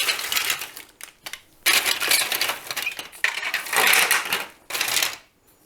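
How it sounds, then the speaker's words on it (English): Marbles clatter and roll along a plastic Duplo-compatible marble run track, loud bursts of rattling with brief gaps between runs, ending in silence. "So these are plastic tracks that can be assembled to form a marble run."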